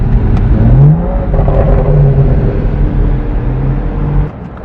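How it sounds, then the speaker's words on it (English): Turbocharged BMW 335i with custom exhaust and downpipes accelerating, a rising engine pull with a whirring turbo note and brief tonal sweeps, close and fairly loud, then easing off near the end. "that turbo noise is just so addicting."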